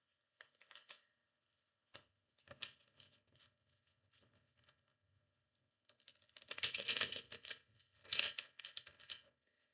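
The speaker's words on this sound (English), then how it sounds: "Just going to shuffle one more time" A tarot card deck being shuffled by hand, with soft scattered riffles and taps early on, then a louder, denser flurry of card shuffling near the end, heard up close.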